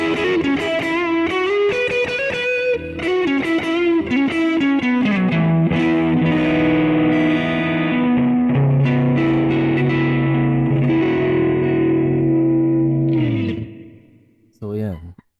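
Electric guitar runs through a Boss GT-1 multi-effects unit on a distorted tone with brightness switched on. A sustained, melodic lead line plays loudly for about thirteen seconds, cuts off, and one short note follows.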